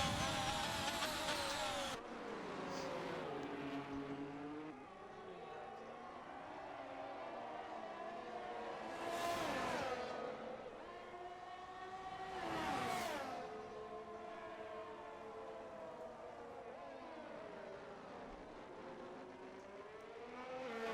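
Formula 1 race cars at the Miami round, with high whining engine notes that rise and fall as the cars sweep past, two clear pass-bys in the middle over a steady background engine drone.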